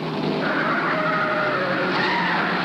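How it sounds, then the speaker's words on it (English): A race car skidding in a 1951 NASCAR race at Langhorne, a loud sustained screech of sliding tires over a steady engine drone, close and unbroken. "It's a wreck."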